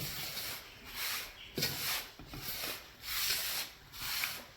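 Dough for neypathal being kneaded and mixed by hand with whole cumin seeds, giving soft rhythmic rubbing and squishing strokes in repeated bursts about every second, close up with no talking.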